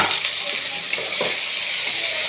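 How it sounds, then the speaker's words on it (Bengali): Spices sizzling and frying together in a pan for a meat curry, a steady close hiss with occasional stirring scrapes throughout. "আমি এখন সব মশলা একসাথে দিয়ে দিব, দিয়ে ভালো করে ভেজে"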